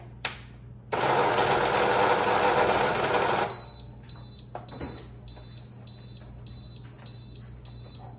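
A jammed Tandy DMP-133 dot matrix printer gives a loud burst of harsh mechanical grinding for a few seconds, followed by a rhythmic series of high-pitched electronic beeps repeating over a low hum.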